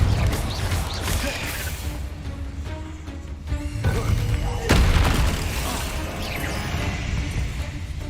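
Confringo, an explosive blast spell cast in Hogwarts Legacy on PS5, going off as loud booming impacts with crashing debris, two heavy bursts standing out over continuous game noise, ambience and faint music.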